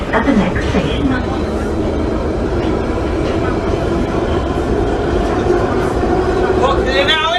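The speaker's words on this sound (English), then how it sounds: "Please note that this train will not stop at the next station." A subway train runs loudly, with a deep continuous rumble and rushing noise throughout and voices heard over it.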